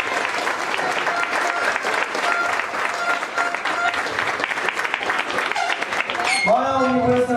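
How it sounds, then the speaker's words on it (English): Dense audience applause for parents at a school ceremony, a continuous crowd of clapping hands that holds steady throughout, with a voice breaking in near the end. "Students, let's give your parents a round of applause."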